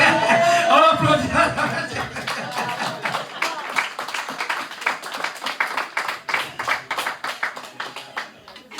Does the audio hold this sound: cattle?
no